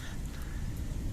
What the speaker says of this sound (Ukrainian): Дощ сече